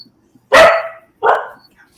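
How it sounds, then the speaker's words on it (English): A dog gives two loud, close barks, the first longer and sharper, the second following after a short pause, with no talk over them. "you got a barker too"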